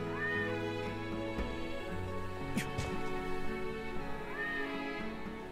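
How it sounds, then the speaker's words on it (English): A cat meows in the video game Star Ocean: The Divine Force, with two rising-falling mewing calls at the start and end over steady game music and ambience. "Oh, it's a cat. I can pet the cat?"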